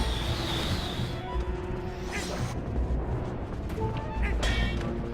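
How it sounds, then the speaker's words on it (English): A creature in Zelda: Twilight Princess HD breathes fire, a loud, steady, roaring rush of flame sound layered with game effects and a few sharp whooshes throughout. "Yep, breathes fire."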